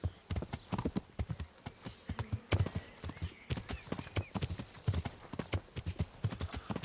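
A horse gallops in the medieval game Kingdom Come: Deliverance, with rapid, rhythmic clip-clop hoofbeats and a brief whinny. The hooves sound close, steady and fairly loud, and faint voices sit in the background.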